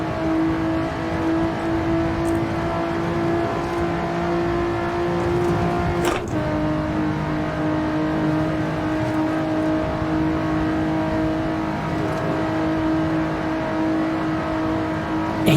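Simulated Lotus Exige S engine racing around the Nordschleife in Assetto Corsa, a steady sustained drone with strong harmonic tones held throughout, one brief sharp gearshift or bump midway, no talking.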